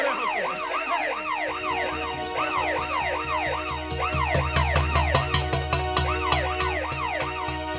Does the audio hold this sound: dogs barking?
no